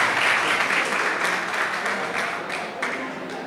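Steady audience applause fills a school quiz-show hall in Senegal, loud and continuous for several seconds, easing slightly toward the end.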